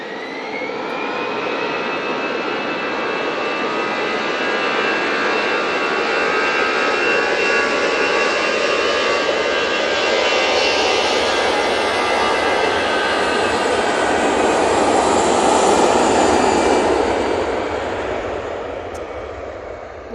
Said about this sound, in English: A320 is off to Catania